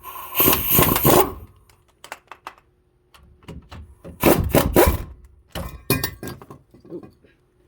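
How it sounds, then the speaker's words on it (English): An impact wrench with a 15 mm socket on a wobble extension works on a 2003 Ford Explorer Sport Trac during a brake job. Several short, loud rattling bursts come close up and are separated by brief pauses, with shop clatter between them. "We're going to take the impact, use the 15 on a wobble."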